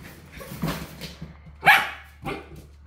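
An excited dog barks wildly in three loud, separate bursts, each short and close, with quieter rustling between them.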